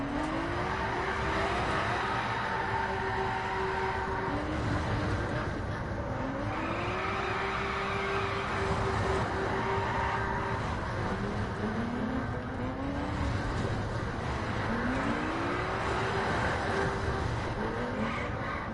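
Car engine drifting in the racing video game The Crew, with repeated rising revs and long sustained high-pitched engine whines in several waves, loud and continuous with tyre noise beneath.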